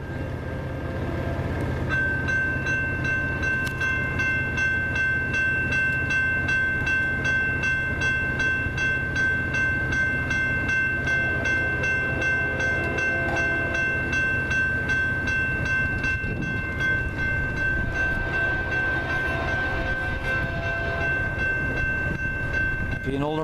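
A Union Pacific freight train led by an older GE locomotive rolls past at Ladysmith, Wisconsin, with a sustained horn blast, rumbling engine and clattering wheels, loud and close throughout.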